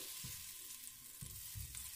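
Quiet steady sizzling of fat melting in the bottom of a saucepan before browning meat for carbonade flamande, a soft crackling hiss with a few low clunks, no voices.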